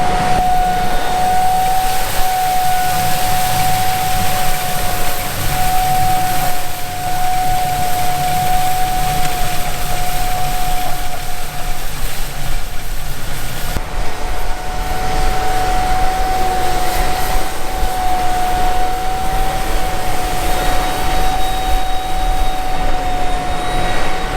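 Tractor working a small paddock while planting maize, a loud, steady engine drone with a constant whining tone running throughout, nearby and uninterrupted for over twenty seconds.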